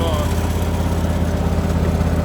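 A lawn mower runs steadily while cutting grass, its engine giving a close, continuous droning hum with a regular pulsing beat and no breaks.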